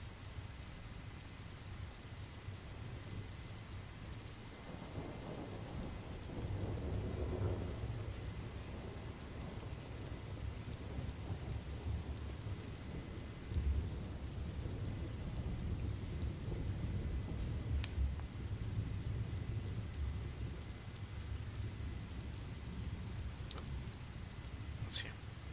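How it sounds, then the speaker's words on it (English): Steady rain falls on a surface with occasional low rumbles of thunder, a continuous close wash of patter with a few sharper drops and cracks, alone without talk. "Is the rain sound okay? Is it too loud or is it just fine?"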